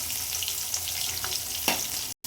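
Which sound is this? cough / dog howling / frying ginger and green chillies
frying ginger and green chillies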